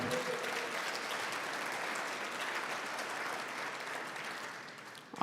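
An audience at a 2022 Georgia PGA awards banquet for golf professionals applauds an award winner. The clapping is full and continuous, easing slightly in volume before cutting off after about five seconds.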